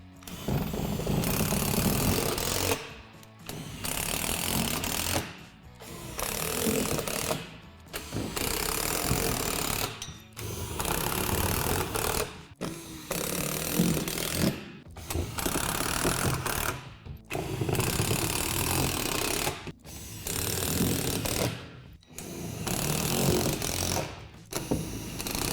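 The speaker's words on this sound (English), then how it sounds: "Now secure the platform to the frame with the self-tapping screws." Self-tapping screws driven through a metal frame with a power driver, loud whirring bursts repeating about every two to three seconds, separated by brief pauses, no talking.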